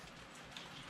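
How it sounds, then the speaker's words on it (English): Steady rain falls outdoors after a day-long downpour, a dense, even hiss of drops close to the microphone with no voices. "it's been raining all day"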